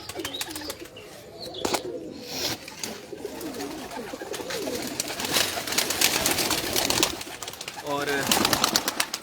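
Pigeons coo in a loft, soft repeated throaty coos with occasional wing flaps nearby, mixed with someone talking over them.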